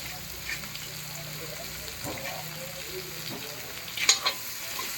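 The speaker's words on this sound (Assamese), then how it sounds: "দি দিলো জিকাটো আগতে ভাজি কৰি লওঁ" Ridge gourd frying in a pan, a steady low sizzle with occasional stirring scrapes and a brief louder clatter near the end, close by with faint voice in the background.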